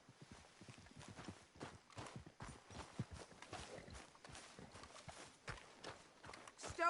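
Steady clip-clop of horse hooves at a brisk walking pace in the video game Red Dead Redemption 2, quiet and rhythmic, with no voices.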